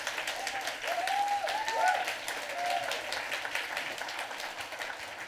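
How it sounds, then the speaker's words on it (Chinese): A church congregation at a Sunday service at Yongguang Church in Taiwan claps in welcome of visiting pastors, a steady wash of applause with a few faint voices rising over it. "我们再一次的掌声来欢迎他们"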